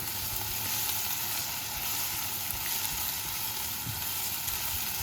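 Onion frying in a pan for pasta, a steady, close, continuous sizzle and crackle with no talking.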